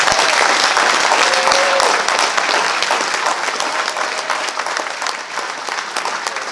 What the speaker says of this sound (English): give the entire Ice Jam Committee a huge round of applause